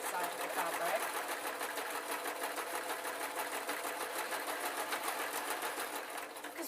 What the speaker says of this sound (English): Now what I'm doing is I'm sewing the two tops together.